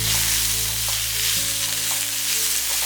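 Chopped onion and radish sauté in a hot pan as part of a vegetable egg omelet, giving a steady, dense sizzle with occasional stirring clicks, close and continuous with no voices.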